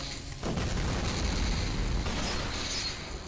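Explosion effect from a Skibidi Toilet animation episode: a sudden loud, rumbling boom bursts in after a short quieter lead-in and roars on for a few seconds before easing slightly.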